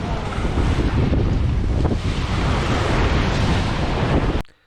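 A sailing boat moves through lumpy seas at about eight knots as waves splash against the hull, a loud, continuous rushing roar heavily mixed with wind buffeting the microphone, cutting off abruptly at the end.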